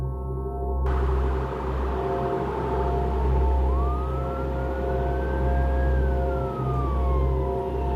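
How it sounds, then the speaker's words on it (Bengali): A cartoon ambulance siren wails steadily at a distance, a thin rising and falling whistle over a low, constant vehicle rumble, with no voices. "অ্যাম্বুলেন্সের হুইসেল, তার মানে লাশ নিয়ে চলে এসেছে"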